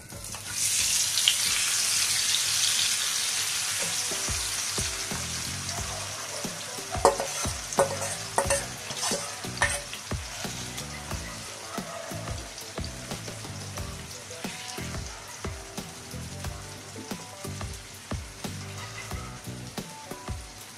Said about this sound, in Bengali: এটাকে আমি একদম লাল করে এপাশ ওপাশ দুই পাশে একদম ভেজে নেব